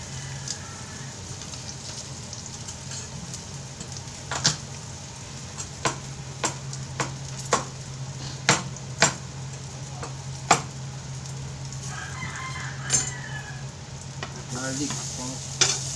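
Garlic frying in oil for fried rice, a steady close sizzle with repeated sharp clicks and scrapes of stirring, no voices.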